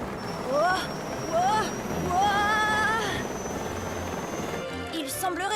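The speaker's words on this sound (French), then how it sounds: "essaie de dompter tant bien que mal un hélicoptère." Helicopter in an adventure video game, heard as stylized whining rotor and engine tones that swoop up and down in short repeated bursts over a steady background hum, ending in a burst of noisy clatter.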